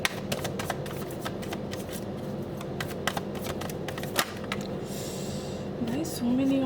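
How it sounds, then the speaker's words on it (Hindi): Tarot cards being shuffled by hand in quick, riffling bursts of soft clicks and flutters, close by and steady, with a voice talking faintly underneath. "कार्ड शफल करो"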